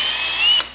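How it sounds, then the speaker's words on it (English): Power drill boring holes through a Yamaha Phazer snowmobile windshield, a short steady high whine close up that cuts off abruptly. "drill some"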